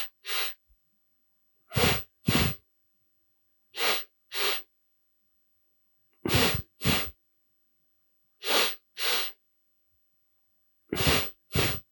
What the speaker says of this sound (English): I'm doing it so you can hear the breathing, so you can keep up with it.